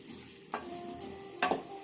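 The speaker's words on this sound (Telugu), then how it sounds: "అవి వేగాక ఆనియన్స్ బాగా వేయించుకోవాలి" Onions frying in a pan for a restaurant-style vada curry, a steady soft sizzle broken by two scraping stirs of a spoon, close and quiet with no talk.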